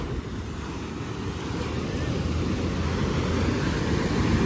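Ocean waves wash onto a beach in a steady, loud rush of surf with strong wind buffeting the microphone, continuous and close throughout with no voices.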